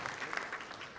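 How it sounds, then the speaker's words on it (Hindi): An audience claps in steady applause at a World Environment Day event in Jaipur, a dense, even patter of many hands that holds at a moderate level throughout the second. "एक बार पुनः आप सभी की तालियों का उद्घोष"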